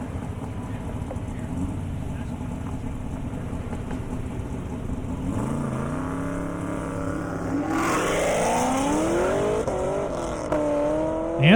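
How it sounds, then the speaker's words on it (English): A Ford Shelby GT500 race car accelerates at an airstrip event, its engine rising in pitch through rising gear sweeps and growing louder, with an announcer talking over it. "Trevor in the GT500."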